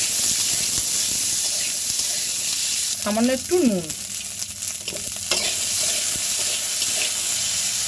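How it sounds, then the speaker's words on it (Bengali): Green peas frying in ghee in a kadai, a steady close sizzle and hiss running throughout with a short spoken remark over it midway. "ঘি গরম হয়ে গেছে, এবার আমি এই মটরশুঁটিগুলো হালকা করে ভেজে নেব।"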